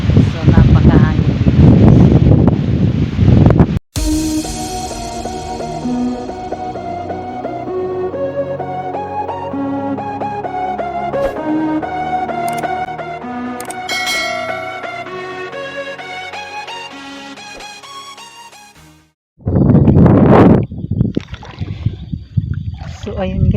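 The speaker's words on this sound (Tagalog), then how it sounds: "napakahangin" Strong wind roars and buffets the microphone at the start and end, with a long stretch of loud tonal music in between.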